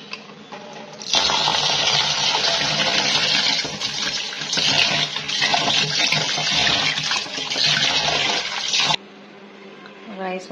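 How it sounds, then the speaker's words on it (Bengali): Rice is washed under a running tap, a loud, steady gush of water pouring and splashing for about eight seconds before cutting off, with a quieter background hum before and after. "রাইস ওয়াশ করে দিয়ে দিলাম,"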